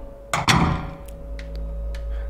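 A stairway door opens in Silent Hill 2 Enhanced Edition with a pair of heavy thuds, followed by a few faint clicks over a low steady hum.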